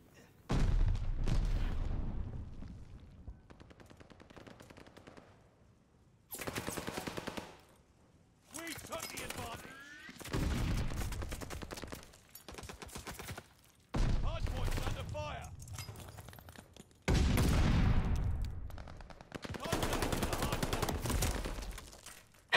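Bursts of automatic gunfire rattle around a contested hardpoint in a Call of Duty-style multiplayer match, with MP40 submachine guns in play. Several loud volleys are separated by short quiet gaps, and an announcer voice is heard at times.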